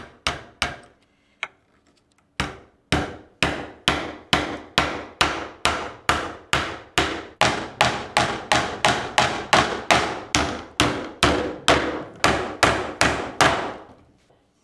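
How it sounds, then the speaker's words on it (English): Rapid, evenly spaced hammer blows strike a nail into wood, a few isolated taps followed by a long steady run of sharp, loud knocks. "then you get out the big guns and we could do a hammer and nail"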